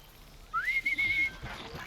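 A machine creature in the video game Horizon Zero Dawn gives a single clear whistle, rising and then holding a steady pitch for under a second, over faint game ambience.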